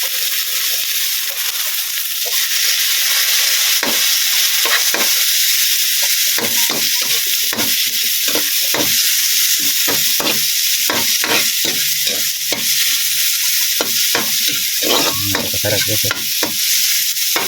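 Continuous close sizzle of frying in a pan with repeated scraping stirs while tomato goes in for Chinese-style adobong kangkong sauce; a voice speaks briefly over the cooking.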